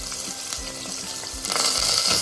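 Chopped onion sizzles and crackles in hot oil with cumin, mustard seeds, dried red chilies and green chilies, the first step of an okra curry. The frying hiss is steady and close, with occasional stirring bumps.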